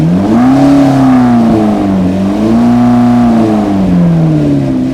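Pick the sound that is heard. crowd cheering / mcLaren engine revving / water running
mcLaren engine revving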